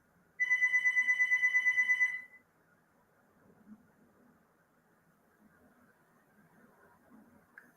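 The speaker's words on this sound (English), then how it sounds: "As soon as the phone stops ringing" A telephone rings with a rapid electronic trill lasting about two seconds, then stops, leaving faint room noise and soft distant sounds.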